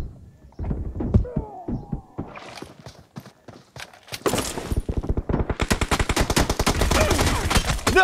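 Video game gunfire: a few scattered shots at first, then dense rapid automatic bursts that grow louder and continuous toward the end, with occasional voices underneath.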